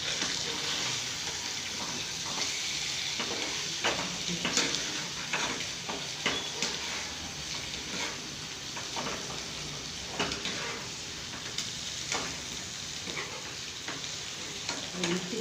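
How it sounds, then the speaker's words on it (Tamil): Fish sizzling in a pan for a home lunch, a constant moderate fry hiss broken by scraping and clinks as the pieces are stirred and turned, with faint background noise throughout. "அந்த மீனோடு அப்படி பெரட்டி விட்டு மீன் நல்லா வேகட்டும்"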